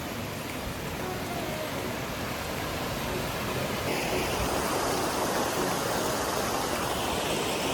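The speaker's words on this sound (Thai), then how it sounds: "เป็นน้ำตกที่แปลกตามากเลยอ่ะ" Continuous roar of falling water, broad and steady, growing slightly louder and fuller midway, with no clear voices on top.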